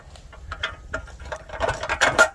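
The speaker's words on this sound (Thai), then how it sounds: "ทีนี้ก็คันน็อตให้มันแน่นใช่ไหมครับ" A nut is tightened onto the bolt of a solar spotlight mount on a light pole, giving close, irregular metallic clicks and ratcheting scrapes that grow busier and louder toward the end.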